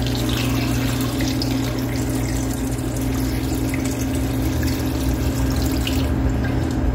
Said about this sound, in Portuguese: Vou colocar na panela aqui e vou cobrir com água.